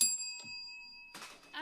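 A bright electronic bell chimes twice, a sustained ringing tone with a clear decay, before people start talking over it.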